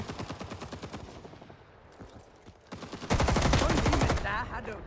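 Fully automatic M2 carbine fire in Rising Storm 2 on the Quang Tri map: rapid close bursts, a short lull with scattered shots, then a louder unbroken stream of fire, with faint voices underneath.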